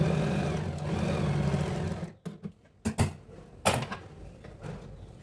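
A sewing machine stitching the back part of a crop top whirs steadily and close for about two seconds, then stops, leaving a few clunks and fabric handling sounds.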